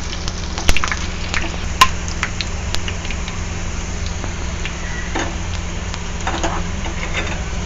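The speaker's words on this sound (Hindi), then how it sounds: "अब मैं इसमें थोड़ी सी प्याज डालूंगी और थोड़ी सी कसूरी मेथी।" Onion and kasuri methi fry in a hot pan, a steady close sizzle and crackle with scattered small pops and clicks.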